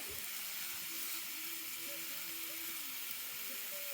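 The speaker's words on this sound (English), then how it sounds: "And we'll just cook that a little bit until the onions start to caramelize." Onions caramelizing in a pan over an open campfire give a faint, steady high hiss of sizzling that runs without a break, with a few soft low knocks underneath.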